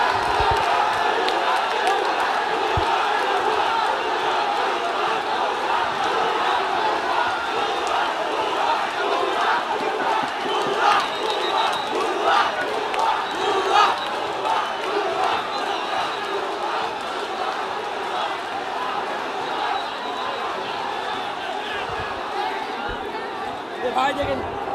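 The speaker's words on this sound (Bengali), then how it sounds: "সেনাবাহিনীকে আমরা দেখতে পাচ্ছি যে ভুয়া ভুয়া বলেও কিন্তু স্লোগান দিচ্ছে।" Crowd of students at Dhanmondi 32 chanting slogans at the army, a dense loud mass of shouting voices with rhythmic chant pulses running steadily throughout.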